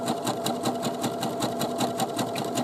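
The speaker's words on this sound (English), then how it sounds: "zigzagging is a back and forth stitch like this" A sewing machine runs a zigzag stitch on a shorts or pajama pants seam, its needle thumping in a fast, even mechanical rhythm, close and steady throughout.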